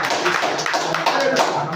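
Students in a classroom break into quick, close clapping for a classmate, a short burst of hand claps with voices mixed in.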